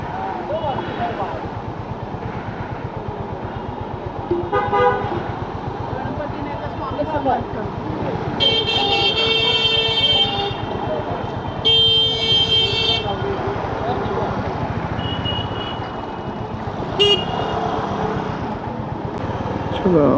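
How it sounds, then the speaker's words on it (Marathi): City traffic in Dadar, Mumbai, heard from a moving motorcycle: a steady engine and road drone with several bursts of car horns honking nearby, while a rider talks over it. "आणि पुढे आहे ट्रॅफिक."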